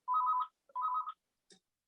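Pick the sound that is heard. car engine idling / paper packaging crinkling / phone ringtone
phone ringtone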